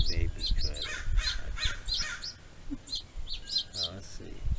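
Birds call repeatedly outdoors, crows and seagulls among them, with rhythmic high squawks in quick bursts over low rumbling background noise and a voice talking briefly underneath.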